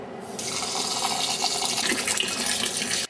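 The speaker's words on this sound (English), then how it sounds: "Wash the rice in warm water. Cold tap water." Cold tap water runs into a bowl as rice for plov is washed, a steady, fairly loud splashing rush that begins abruptly and carries on without pause until it stops at the end.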